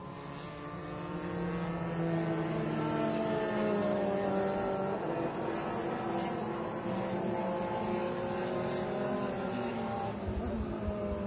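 Formula 3 race cars at Interlagos, Brazil, during a 2014 F3 Brasil race, a tightly bunched pack roaring past in a steady, loud, continuous engine drone with shifting pitches and no talk.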